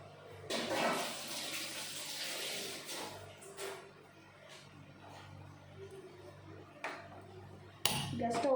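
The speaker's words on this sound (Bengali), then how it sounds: "এখন আমি প্লেটটা ধুয়ে অল্প একটু জল দিয়ে দেবো।" A plate rinsed under running kitchen water with a little water added, while cooking a small-fish kadai paturi: a burst of flowing water near the start, then quieter clinks and handling, with another splash at the end.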